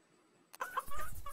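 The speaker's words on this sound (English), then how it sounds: "chicken." A chicken gives a brief, close cluck that starts abruptly after a moment of near silence and lasts under a second.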